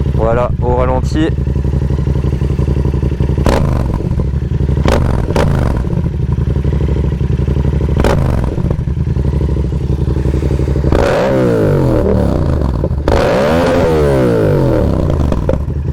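A 2019 Yamaha MT-07 motorcycle engine idles loudly and steadily up close, with occasional clattering, a few throttle blips and a brief rev near the end.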